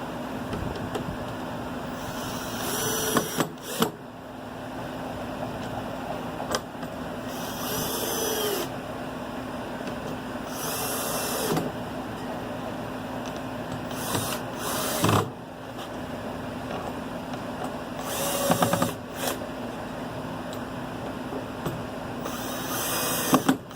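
A power drill drives screws through a plywood lid into a wooden swarm trap in several short, loud whirring bursts separated by quiet handling noises, close by.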